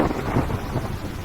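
Heavy rain with rumbling thunder in a cartoon storm, a dense low roar of downpour and thunder filling the whole moment, steady and loud with no voices.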